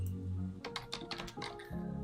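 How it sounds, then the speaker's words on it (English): Rapid keystrokes on a computer keyboard during a live broadcast, a quick burst of close clicking taps between quieter stretches of low room hum. "Oops, I'm typing in Japanese still."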